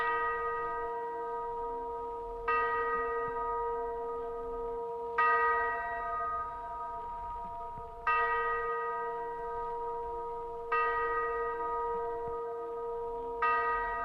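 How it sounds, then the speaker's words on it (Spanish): A pendulum clock striking midnight with deep, resonant chimes, five slow strikes spaced about every two and a half seconds, each ringing out and decaying under a steady low drone. "Un reloj de péndulo marcó la medianoche."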